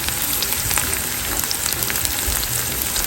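Garlic and onion frying in a pan for a dal tadka give a steady, dense sizzle that stays even and unbroken throughout, with no one talking.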